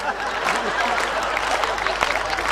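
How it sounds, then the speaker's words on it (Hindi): Audience clapping at a Hindi kavi sammelan poetry recital, a moderate patter of claps from a seated crowd mixed with murmuring voices and some talk. "जो ज्यादा ताली पीटेगा हम होंगे आभारी"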